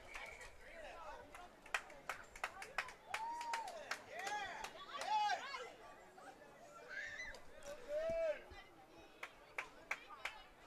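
A home crowd at a boys' high school soccer match claps and cheers after a goal, scattered sharp claps and voices rising and falling at moderate distance, with a commentator speaking over it.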